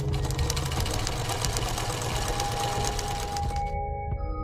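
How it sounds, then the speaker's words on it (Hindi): A sewing machine stitches in a fast, steady mechanical whir with rapid needle clatter, close and loud, then stops abruptly near the end, leaving a faint hum. "टीवी देखते हुए सिलाई मशीन पर सिलाई का काम करने"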